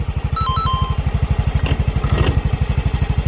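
A 2019 Freego 125cc scooter engine idles steadily with an even, rapid low putter throughout, with a faint electronic beep early on and no talking.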